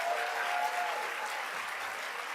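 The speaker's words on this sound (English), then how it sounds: "Another applause for them." Brief applause from a large audience at the Erasmus Generation Meeting 2023 opening ceremony, a continuous wash of clapping held at an even, moderately distant level.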